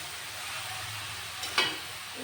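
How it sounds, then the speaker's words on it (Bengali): Half-ripe papaya frying in ghee, a constant soft sizzle lasting about two seconds, broken by one brief louder scrape of stirring partway through. "এটা আবার ঘিয়ের সাথে একটু ভাজা ভাজা করে নেব"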